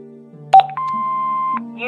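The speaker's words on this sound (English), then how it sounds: "Hobbs's answer phone, and he's got messages." An answering machine in the video game Broken Sword: The Serpent's Curse sounds electronic beeps, a brief tone followed by a longer sustained beep, clean and close.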